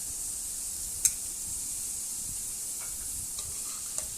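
Banana flower, potato and soybean pieces fry in a wok, giving a steady, quiet sizzling hiss with a few faint clicks and scrapes of stirring.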